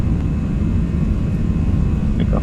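Simulated airliner jet engines in X-Plane 11 spool up as the throttle advances at LaGuardia, giving a loud, steady broadband roar that holds through the whole stretch with no talking.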